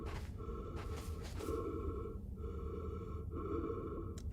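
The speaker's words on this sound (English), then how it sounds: "the breathing sound effect is crazy" Steady, airy breathing from a spacesuit in the game Outer Wilds, rising and falling in a slow rhythm over a low background hum, with faint tonal beeps.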